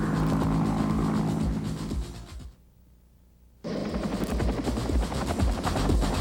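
Loud, steady Vietnam War military helicopter rotor and engine roar close by, cutting out abruptly for about a second before resuming at full strength.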